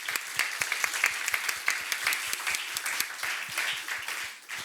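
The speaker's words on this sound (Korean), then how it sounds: "Vamos a aplaudir a nuestro Dios." A church congregation at a Mexican worship service applauds together, a steady run of loud, fairly rhythmic hand claps lasting the whole stretch.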